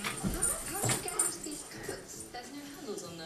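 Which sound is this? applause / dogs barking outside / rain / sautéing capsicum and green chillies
dogs barking outside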